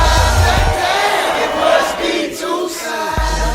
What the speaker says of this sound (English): The crowds that are behind me, they are all over the streets here